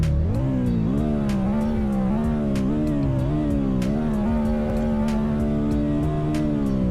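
A four-cylinder VTEC car engine in the Roblox video game revs with a buzzing tone that climbs and dips in pitch, then settles into a steady, sustained drone, with faint ticking clicks throughout.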